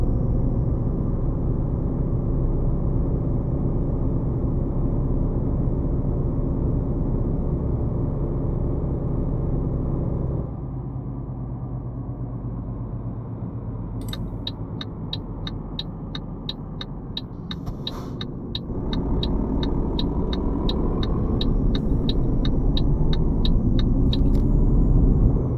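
Heavy truck engine in Euro Truck Simulator 2 drones with a steady low rumble throughout, easing slightly midway, while a rapid series of clicking ticks, like an indicator, runs over it for a few seconds.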